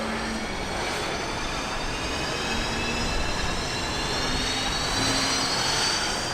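Steady, loud engine roar with rising and falling high-pitched whine as unlimited hydroplane racing boats idle and head out for a heat at the Madison Regatta, continuous throughout with no talking.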